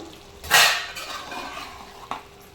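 Gongura chicken curry stirred in a pot, with one clear scraping clatter of a spoon against the pot followed by softer stirring and a small knock, close and with no talking.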